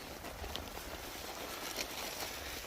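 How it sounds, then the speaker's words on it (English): Heavy rain patters on a tent at a woodland camp, a steady close drumming texture with a few sharper drip taps standing out, fairly quiet and without speech. "It's raining so hard I thought I'd try the tent out."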